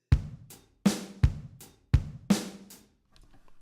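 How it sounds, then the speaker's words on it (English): A slow, sparse drum beat: deep kick thumps alternating with snare and hat hits, five strikes evenly spaced with ringing decays, close and clear. "adding in the drum kit"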